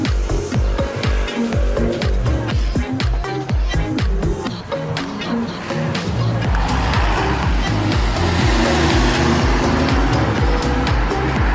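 Engine noise from motorbikes passing on a busy street in Lovina, Bali, with repeated revving and whooshing through a continuous loud traffic din.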